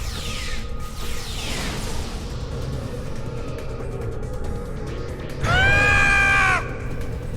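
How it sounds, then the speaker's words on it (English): A harmonic, wavering scream rings out loud near the end amid busy mechanical background clatter in the video game Star Trek Online. "I love that scream."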